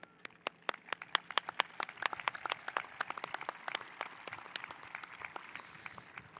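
Applause at an outdoor-sounding high school graduation ceremony, sparse and faint, with distinct individual claps scattered across a thin spread of clapping that thins out toward the end.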